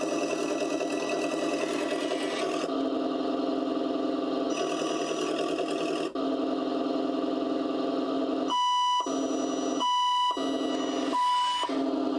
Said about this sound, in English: we got our blinker sound, which turns on when you're turning.